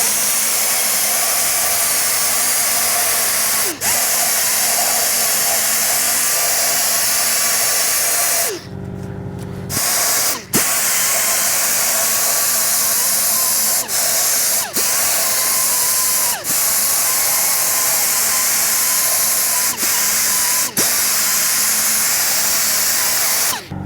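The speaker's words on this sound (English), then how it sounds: "once you have all the cleaning done with the die grinder" A die grinder cleaning a cylinder head surface during a head gasket replacement, a loud steady high-pitched whine running continuously with brief dips and a short break near the middle, no talk.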